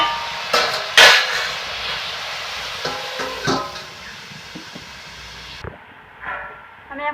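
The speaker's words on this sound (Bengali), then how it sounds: "আমি এখন ঢাকাটাকে একটু খুলছি।" A lid comes off a cooking pan holding a fish curry with ridge gourd, pumpkin and lentil dumplings, giving a couple of sharp metallic clanks near the start, then softer scrapes and clatter in a quiet kitchen.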